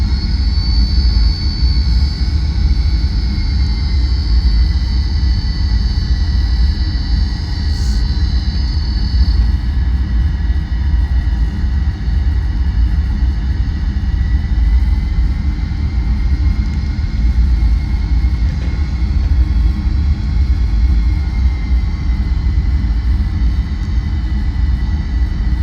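An Eclipse 550 business jet spools up on its takeoff roll in a flight simulator game, a loud, continuous engine roar and rumble with a thin high whine over it, steady throughout.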